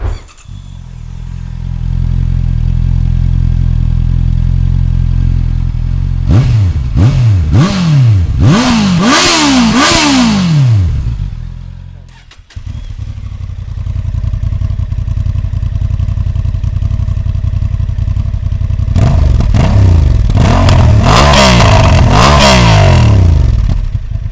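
A 2025 Honda CB650R motorcycle with E-Clutch idles loudly, then revs repeatedly in sharp rising bursts, drops back to idle, and revs again in another quick series of throttle blips.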